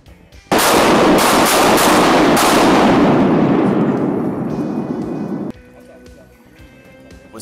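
A shotgun blast fired at a duck during an early-morning waterfowl hunt over decoys, one loud sharp report with a long rolling echo that decays over several seconds before quiet outdoor ambience returns.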